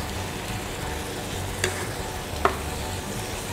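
Beef with onion and capsicum is stirred in a frying pan, a steady close sizzle with two brief scrapes of the spoon against the pan.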